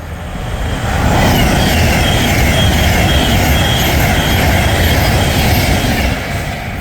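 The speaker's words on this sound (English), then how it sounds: "passing through now is an Avanti West Coast Stars 390 running from Glasgow Central to London Euston via Birmingham" An Avanti West Coast Class 390 train from Glasgow Central to London Euston passes through Berkhamsted station, its loud, close rumble and wheel roar swelling after a second and holding steady throughout.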